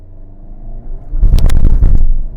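A Hyundai Kona N launches hard from a standstill without launch control: a low idle rumble holds for about a second before the engine erupts into a loud, close roar that stays strong to the end.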